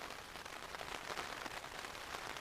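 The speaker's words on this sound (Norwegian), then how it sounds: "det regner" Rain pattering steadily on surfaces during a wilderness crossing of Ungava in northern Canada, a dense close hiss of drops with slight bursts, no talk.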